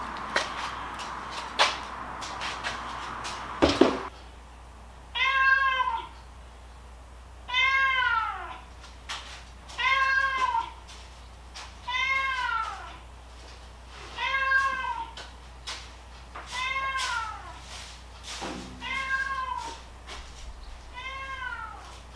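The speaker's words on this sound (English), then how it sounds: "everywhere I went, the cat was yowling" A cat outdoors near a workshop yowls and meows repeatedly, about eight long drawn-out cries spaced evenly a couple of seconds apart, fairly clear and close, after a brief knock at the start.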